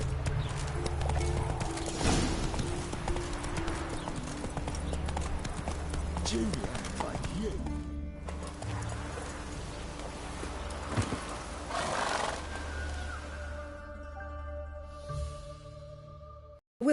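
Roach, the horse in The Witcher 3, gallops with a steady rhythmic clip-clop of hooves close by, under game music and spoken dialogue, then fades near the end.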